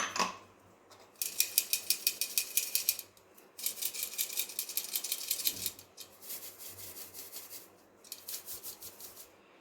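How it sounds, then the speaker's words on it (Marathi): Rhythmic scratchy rubbing in three bursts, a rapid shake-and-scrape pattern of ground moth bean flour being sifted through a sieve, fairly close with short pauses between. "ते चाळणीने चाळू"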